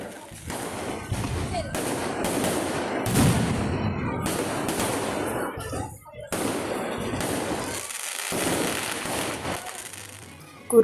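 Festival fireworks explode during a church feast celebration in a dense, continuous barrage of loud cracks and booms, with only brief pauses between volleys.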